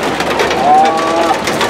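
Steady rain pours down on people riding an open bus in Nepal, a loud constant hiss with a faint tonal whistle briefly in the middle.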